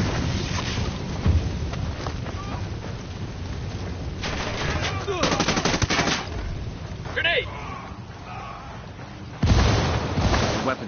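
Gunfire in a video game, with repeated loud bursts of shots over a constant noisy rumble, a few separate volleys spread across the stretch.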